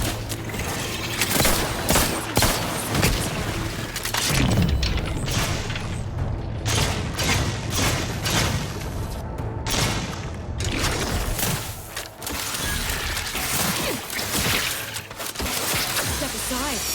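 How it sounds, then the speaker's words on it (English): Rapid bursts of weapon fire against crab-like Crabbles in the video game Outer Worlds 2, loud and dense with booms and mechanical clatter, continuing throughout under occasional talk. "Oh, look how good this gun is against the Crabbles."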